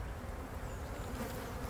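Honey bees buzz at an open hive, a dense, continuous drone held at a steady level and heard up close.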